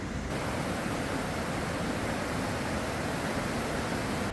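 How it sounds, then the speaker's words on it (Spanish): A waterfall along the Salkantay trekking route roars as a steady, dense rush of falling water, loud and unbroken with no voices. "miren lo que es esta cascada, impresionante. Qué linda cascada."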